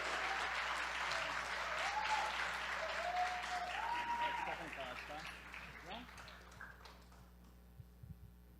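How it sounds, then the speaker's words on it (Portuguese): Church congregation applauding at a Portuguese-language service, steady moderate clapping over a low hum with a voice singing or speaking over it, tapering off toward the end. "Muito obrigado pelas palmas."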